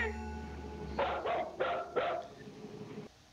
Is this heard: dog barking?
yes